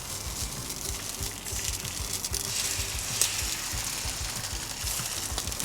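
An egg frying on a Weber Slate griddle, a steady close sizzle and crackle of hot fat, with a faint rhythmic low thumping underneath.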